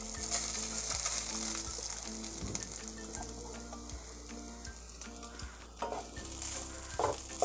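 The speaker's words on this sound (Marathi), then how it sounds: "आता तुपामध्ये थोडंसं परतून घेऊया एक मिनिट भर तुपामध्ये परतवून घेतला" Grated coconut fries in ghee in a kadhai, a continuous bright sizzle running throughout, overlaid by a steady rhythmic thumping and tonal background music.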